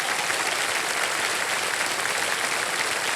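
Studio audience applause on the quiz show Kaun Banega Crorepati welcoming a contestant: a continuous, even wash of clapping throughout, with no voices on top.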